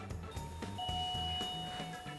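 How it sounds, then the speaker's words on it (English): A household doorbell chimes a clear ding-dong, with sustained tones ringing over a faint room background. "That's the doorbell."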